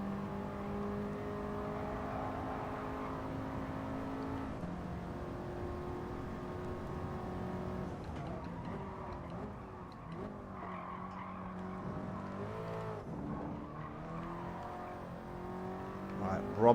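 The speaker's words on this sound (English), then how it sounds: "Car sliding all over the place there." A race car slides and squeals around the Nurburgring in a sim racing game, engine droning and shifting pitch as tires scrub through the corners, fairly steady and close.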